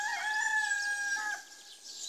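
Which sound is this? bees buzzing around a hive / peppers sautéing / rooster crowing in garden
rooster crowing in garden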